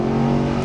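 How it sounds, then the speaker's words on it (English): A 2013 Mercedes-Benz SLS AMG GT with a 600 hp engine, its exhaust roaring loud and close as it accelerates up a freeway on-ramp, a sustained heavy drone with no talk. "listen to this exhaust as we get onto the freeway"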